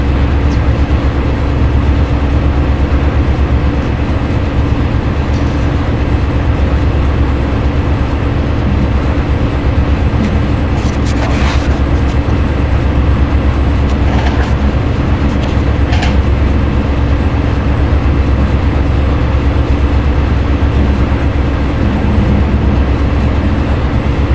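A train rolls past on a commuter railroad line, a steady, loud, continuous rumble and roar that holds throughout with faint metallic clanks on top.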